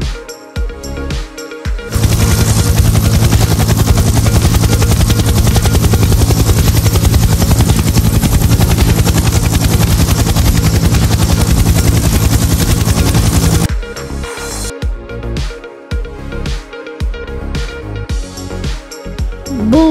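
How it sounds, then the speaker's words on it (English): A helicopter roars loudly and steadily with dense rotor chop for about eleven seconds, with sharp rapid bangs like gunfire both before and after it. "Helicopter. Helicopter."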